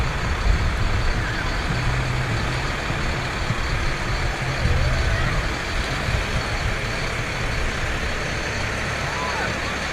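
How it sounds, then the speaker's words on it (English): Fire department vehicles from Chazy roll past in a parade, a steady rumble of truck and bus engines with occasional brake hiss and beeps, fairly loud and continuous, with voices in the crowd. "Oh, a lot of vehicles from the Chazy Fire Department."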